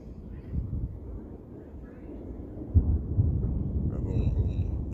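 Thunder from an overhead storm rolls as a low, distant rumble that swells and grows stronger midway, with a faint higher tone near the end.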